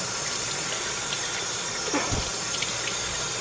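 Lettuce for a tuna sandwich is rinsed under a running kitchen tap, a steady, even hiss of flowing water throughout, with a few soft splashes and knocks partway through.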